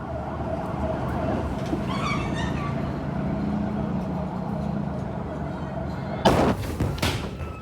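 A huge explosion at the port of Beirut hits as a sudden loud blast after a stretch of wailing emergency sirens and city noise, with rumbling debris trailing off after the boom.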